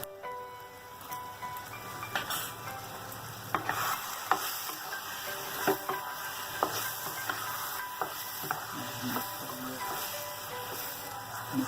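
Spices such as garam masala and salt are stirred into chicken kadhai curry in a pan: a low sizzle runs beneath repeated sharp scrapes and clinks of the spoon, faint and uneven.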